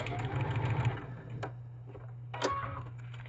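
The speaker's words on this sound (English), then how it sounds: "Mary says my machine sounds like a Bernina. Nope, it's a brother." A Brother sewing machine running while piecing half square triangles, a steady mechanical hum with rhythmic ticking clicks of the needle, close and fairly quiet, sewing alone without talk.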